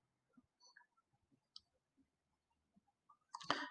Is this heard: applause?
no